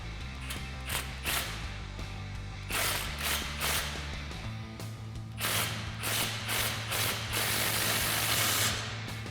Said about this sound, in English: you want to snug this down with your 15mm socket to keep it from falling off while you install the hanger